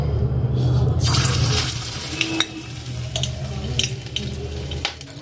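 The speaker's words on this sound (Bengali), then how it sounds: "তো চলো এইগুলোকে তেলে ভেজে নিই, একটু পকোড়া বানিয়ে নিই।" Battered pakoras dropped into hot oil, a loud rushing sizzle at first that settles into steady frying with scattered sharp pops and crackles of spitting oil, close by.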